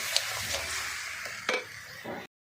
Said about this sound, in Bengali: দিয়ে মশলাটাকে ভালো করে কষিয়ে নিচ্ছি